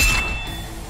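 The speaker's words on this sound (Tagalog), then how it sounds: "Nang magtama ang sandata ni Glenn at Andras, sabay silang bumagsak sa lupa" Metal weapons clash in a single bright, ringing clink at the start, its tone lingering and slowly decaying over a low ambient rumble, with no speech.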